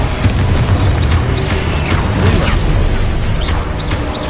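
Confringo fire spells blasting in Hogwarts Legacy combat, dense booming explosions and crashes layered with whooshing spell effects and swelling game music, loud and continuous throughout.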